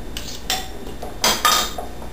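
Peanut butter muffin batter being stirred in a bowl, a utensil clinking and scraping against the sides in a few irregular bursts, close and fairly quiet with no talking.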